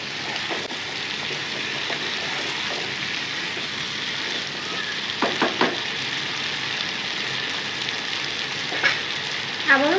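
Chicken with pre-fried potatoes sizzles in a pan as the potatoes are stirred in, a steady frying hiss broken by a few sharp utensil scrapes and clicks.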